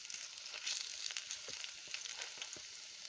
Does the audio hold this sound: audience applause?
no